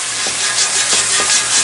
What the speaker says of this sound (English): we're just bringing the water up with the brush, because if you don't get that sizzle, it's not gonna clean it